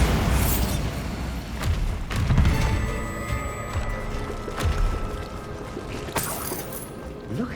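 Bombarda explosion spells in Hogwarts Legacy thump repeatedly amid clanking mechanical game effects, several heavy booms spaced a second or two apart over a busy, loud combat soundscape.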